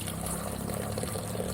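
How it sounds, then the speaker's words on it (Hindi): Cold natural water pours steadily from a spring spout outdoors in the Garhwal hills, a continuous splashing rush heard up close with no break. "धारे का बिल्कुल नेचुरल ठंडा पानी।"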